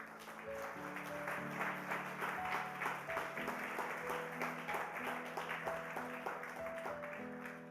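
A church congregation at EEAM Kénitra claps together, a dense, sustained round of applause with steady rhythmic hand claps. A sung or played tone carries along beneath it.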